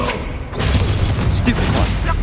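A Confringo fire spell blasts during Hogwarts Legacy combat, a loud booming burst that rumbles on amid dense game noise, with a voice speaking over it.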